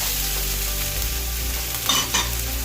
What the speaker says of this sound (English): So we're going to fry these off until they're brown.